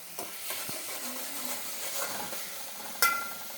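Coriander leaves frying in a little oil after onions and curry leaves, giving a steady soft sizzle with light stirring scrapes and a brief sharper crackle near the end; no talking.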